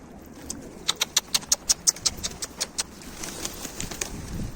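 A Karabaş kara kuyruk pigeon takes off in a rapid run of about a dozen sharp wing claps, loud and close at first and then thinning out, followed by softer rustling.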